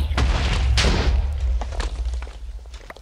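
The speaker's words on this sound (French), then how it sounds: "Donc la grenade, elle explose, et elle explose autant qu'une TNT normale." A grenade from the Minecraft Stefinus 3D Guns mod detonates with a loud, deep boom at the start, followed by heavy rumbling and a few thuds that fade over about three seconds.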